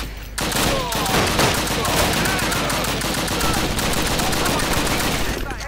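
Automatic gunfire rattles almost without a break in Call of Duty: United Offensive. The rapid shots are loud and close, layered over dense battle noise.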